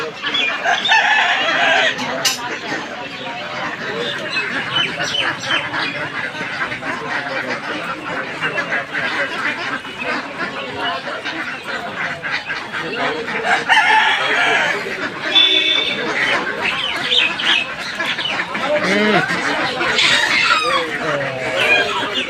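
Chickens cluck and a rooster crows repeatedly at a busy duck and chicken market while a bird is being chased and caught, dense continuous flock noise close by with people talking throughout.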